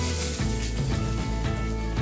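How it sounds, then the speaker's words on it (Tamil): Mustard and cumin seeds splutter and crackle in hot oil while tempering for gongura pappu (pulicha keerai paruppu), a steady close sizzle with dense popping throughout. "இப்போ வந்து கடுகு பொரிஞ்சிருச்சு, ஜீரகமும் பொரிஞ்சிருச்சு."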